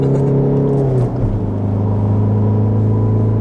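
A Volkswagen Golf on the Nürburgring track, its engine a loud, steady droning hum that dips in pitch briefly before settling into a continuous whine.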